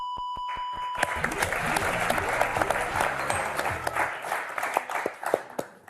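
A studio audience on the French word game show Motus breaks into applause after a short beep, a dense burst of clapping that swells, then thins into scattered claps.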